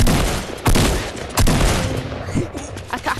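Gunfire in the Fortnite video game, a few sharp loud bursts of shots with echoing booms between them, close and punchy over a noisy game background.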